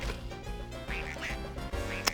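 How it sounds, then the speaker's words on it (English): A rubber duck item being collected in the Toy Story 2 N64 video game gives several quacking sounds in quick succession over game music, clear and close. "And you'll find your second rubber duck."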